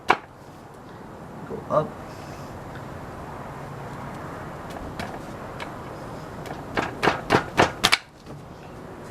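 Hammer blows on a car's rear axle seal, with one sharp knock early, another near two seconds, then a fast burst of five or six metallic strikes late in the clip, over a steady workshop hiss and brief speech.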